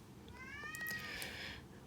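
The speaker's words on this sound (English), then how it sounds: "My cat is yelling and meowing outside my door." A single drawn-out cat meow from outside a door, clear and moderately quiet, lasting about a second over faint room noise.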